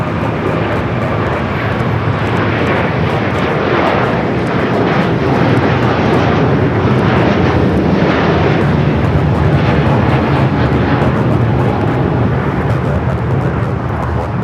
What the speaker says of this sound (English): 740 taking off to Doha on the A350 1000.